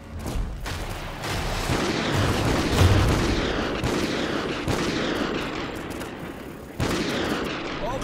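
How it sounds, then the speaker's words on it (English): Gunfire from a remote sniper in the Call of Duty: Ghosts mission Homecoming, a dense ongoing din of shots and booms layered over heavy battle noise, with a sharp loud burst near the end. "Use the remote sniper to clear those up."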